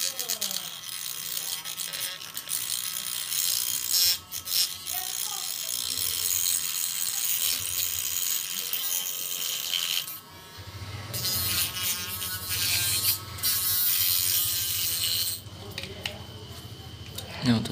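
Small power tool smoothing rough cut acrylic edges: a continuous close buzzing and whirring with varying pitch and brief pauses, with a voice talking over it at times.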